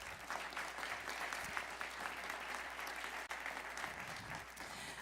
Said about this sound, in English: So another round of applause for Eddie Cohen.